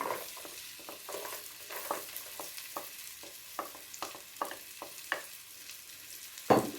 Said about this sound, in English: So I've chopped up my onions and garlic, so I'm just going to throw that in now.